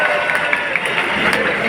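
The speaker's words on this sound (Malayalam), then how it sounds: "രാമപുരത്തിന്റെ അഭിമാനമായ അമലുവിനും കൊടുക്കൊരു വലിയ കൈയടി" Audience at a youth meet in Palai clapping together in a dense, steady burst of applause, filling the short stretch evenly and close.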